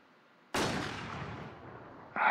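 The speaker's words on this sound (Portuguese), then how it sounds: "Tem alguém atirando aqui." A single loud gunshot in the online survival shooter Infestation rings out after a quiet start and decays over more than a second, followed by the onset of another sharp report.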